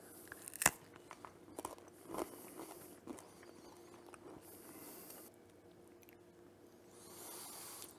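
Crisp crunching bites of homemade macadamia coconut brittle made from melted sugar, a few sharp close snaps followed by softer chewing and faint rustling, with no talking.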